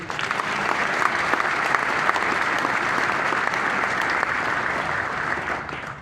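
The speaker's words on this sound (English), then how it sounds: "Give them a round of applause for free." Dense, loud applause from a large crowd fills a memorial ceremony of life for a poker legend, sustained and even throughout before easing slightly at the end.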